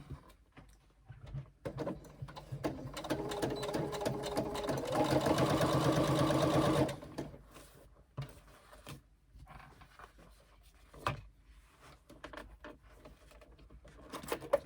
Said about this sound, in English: Okay, so we stitch our 3/8 inch